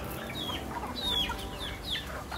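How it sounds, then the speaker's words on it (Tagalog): Several chickens cluck and chirp close by in a busy provincial farmyard in the Philippines, with short high calls scattered over a constant low background hum. "yan yung mga alaga ni mother na mga manok"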